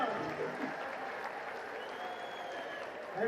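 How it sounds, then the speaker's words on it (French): Audience applause for a performer, steady clapping from a crowd at moderate distance that holds evenly throughout, with a faint voice near the end. "On va applaudir Lucas"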